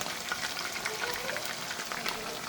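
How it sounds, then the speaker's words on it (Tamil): Chicken 65 fries in hot coconut oil, giving a dense, continuous sizzle with crackling spits throughout, close and steady with no break. "தேங்காய் எண்ணெய் மணக்க சிக்கன் 65 பொரிச்சுக்கிட்டு இருக்காங்க"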